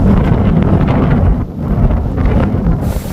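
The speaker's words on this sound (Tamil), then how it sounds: "ஏன்னா நல்லா காத்து அடிக்குது" Strong wind roars steadily across a microphone on a hilltop on the climb to the Thenpalani Murugan temple, loud and buffeting throughout with no voices.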